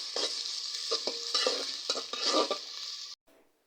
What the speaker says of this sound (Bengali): এখন আমি এই যে তেল দিয়ে পেঁয়াজ দিয়ে দিলাম, আর সাথে দিয়ে দিব কাঁচামরিচ